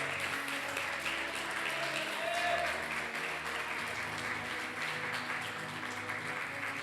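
A church congregation applauds during a Sunday service, the continuous clapping fairly faint and distant, with a low background hum and a few murmured voices underneath.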